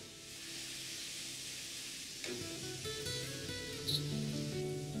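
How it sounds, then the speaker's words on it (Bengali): Onions frying with a pinch of salt over a high flame, sizzling in a steady hiss that grows slightly louder midway, with faint utensil clinks and no talk. "তারপর ফ্লেমটা হাই করে পেঁয়াজটাকে ভালো করে ভেজে নিচ্ছি।"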